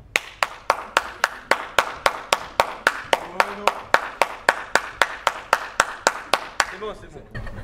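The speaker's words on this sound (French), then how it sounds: "je sais applaudir très fort dans mes mains" A single person claps their hands very loudly at a variety show, about twenty sharp, evenly spaced claps at a quick steady pace, close and dominant, with a brief murmur of voices after the clapping stops.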